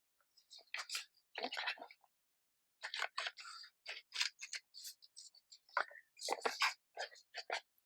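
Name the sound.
scissors cutting paper envelope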